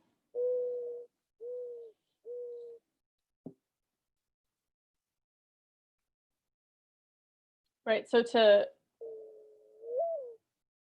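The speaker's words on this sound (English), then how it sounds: "But this is the mourning dove, Zenaida macrora." Recorded call of a mourning dove: three soft, low hooting coos, a short pause, then a longer rising-and-falling coo after someone briefly speaks over it.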